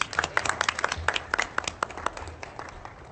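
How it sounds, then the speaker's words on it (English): Scattered clapping from a small audience at a school board of education meeting, a few dozen distinct hand claps in an uneven rhythm, moderately near and fairly quiet, with no talk over it. "I don't know why you're clapping"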